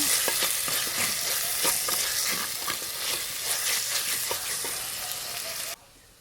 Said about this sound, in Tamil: வெங்காயம் எல்லாம் நல்லா வதங்கிடுச்சு